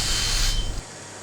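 Smoke detector spray triggers an oil mist detector head, producing a loud continuous high-pitched alarm tone with hissing spray at the start, then a steadier tone after the spray stops.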